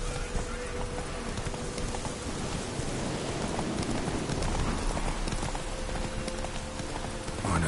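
Roach the horse gallops in The Witcher 3, with steady hoof clip-clop under rain and distant thunder, continuous and fairly loud throughout without talk.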